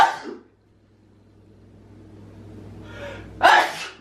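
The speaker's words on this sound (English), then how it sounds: "I got to sneeze for it." A single sharp, loud sneeze triggered by paprika and cayenne spice bursts out near the end after a quiet inhale, with a faint vocal sound at the start.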